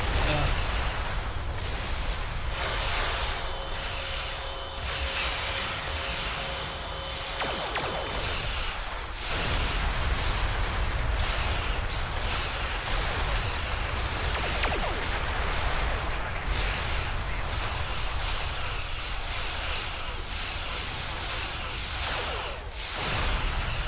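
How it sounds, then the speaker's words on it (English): Heavy torpedo spreads fire in the space game Star Trek Online, giving repeated whooshing, blasting bursts over a constant, dense, noisy rumble. "Darkness fire at will. Autonomous heavy torpedo spreads."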